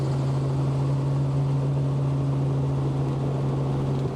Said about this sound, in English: we then climb back in the helicopter, ready for our ascent up to our lunch destination